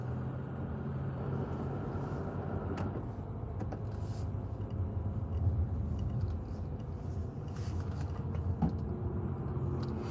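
A low, steady engine and road rumble fills a Mazda CX-30 cabin while driving, with occasional faint clicks and knocks above the drone.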